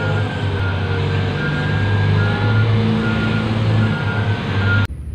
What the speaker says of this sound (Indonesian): Di sini ada truk tambang.